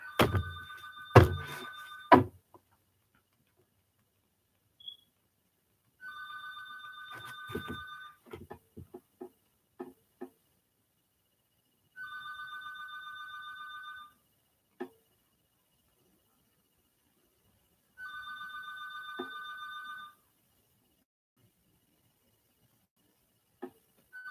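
An electronic telephone rings in a quiet room, four steady two-second ring bursts spaced several seconds apart, with a few scattered soft knocks and thuds between them and no voices.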